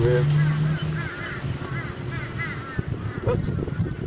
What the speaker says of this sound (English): Ibis everywhere.